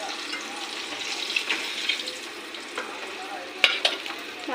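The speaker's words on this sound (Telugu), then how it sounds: "10 నుండి 15 నిమిషాల వరకు మనకు సిమ్లోనే ఫ్రై చేసుకోవాలండి." Chicken pieces deep-frying in oil on low heat for homemade KFC-style fried chicken, giving a steady soft bubbling hiss with faint crackles and a few sharper pops near the end, fairly quiet and without voices.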